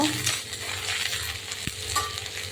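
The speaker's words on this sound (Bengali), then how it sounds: "এবার আমি দিয়ে দেবো রসুন বাটা দিয়ে দেবো আটা আদা বাটা একটু নেড়ে চেড়ে নেব" Garlic and ginger paste frying with browned onion in a pan for a fish curry, stirred with a close, steady sizzle and a sharp utensil clink against the pan.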